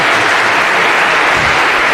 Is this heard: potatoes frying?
no